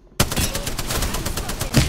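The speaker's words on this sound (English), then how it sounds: "The enemies are shooting at me." Rapid automatic gunfire in the video game Apex Legends, a dense loud burst of shots starting abruptly and running without pause.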